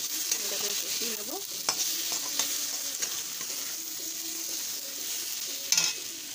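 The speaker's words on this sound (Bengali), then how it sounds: "তো এর মধ্যে জিরের গুঁড়ো, লঙ্কার গুঁড়ো আর একটু হলুদ গুঁড়ো আর লবণ দিয়ে এটাকে কষিয়ে নেবো।" Taro curry sautéing in a pan with cumin, chili, turmeric powder and salt, a continuous close sizzle broken by spatula scrapes and clinks against the pan, and one louder scrape near the end.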